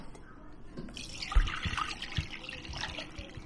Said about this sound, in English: So I just strain it first.